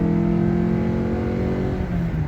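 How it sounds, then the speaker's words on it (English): A car fitted with a Roar throttle pedal is floored from a 45 mph cruise, giving a loud, continuous engine drone with strong tonal harmonics that shift slightly as it pulls, with no voices. "I'm going to floor it right now."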